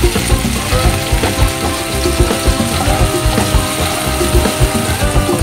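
Chopped tomatoes, onion, peas and green chili fry in a pan for Maggi, a loud, close sizzle broken by rapid rhythmic scraping and clicking of stirring.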